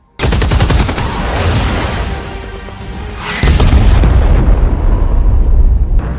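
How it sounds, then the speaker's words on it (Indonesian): Rapid bursts of heavy gunfire from a supersonic fighter jet rattle loudly, mixed with booming impacts and a jet roar that swells toward the end. "Jet tempur dengan kecepatan supersonik ini kembali melepaskan tembakan."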